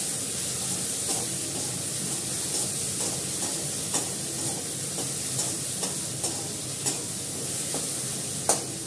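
A dish sautés in a pan while being stirred, a steady hissing sizzle broken by periodic scraping knocks of the spatula, with no talking.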